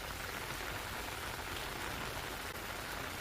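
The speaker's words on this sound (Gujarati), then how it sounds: "ઉપલેટાના તલંગણા ગામમાં ભારે વરસાદ જોવા મળી રહ્યો છે।" Heavy rain pours steadily on a village in Upleta, Gujarat, a dense, unbroken hiss of drops on surfaces with no gaps throughout.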